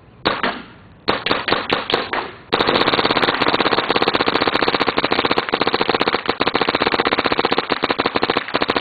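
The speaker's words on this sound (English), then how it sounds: "shooting my G3 custom back cap mod, Halo, Crown Virtue, Speed Feed" Skullz G3 paintball marker with a custom back cap mod, Halo and Crown Virtue, on semi-auto with a full hopper of paint, firing a few spaced pops, then a long, rapid, loud stream of close shots.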